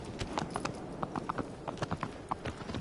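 Horse hooves in Shadow of the Colossus clip-clop in a quick, uneven trotting rhythm, close and fairly loud, with no talking over them.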